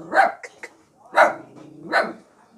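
A dog barks three times, loud and close, with evenly spaced sharp woofs and a few small yips between them in an otherwise quiet setting.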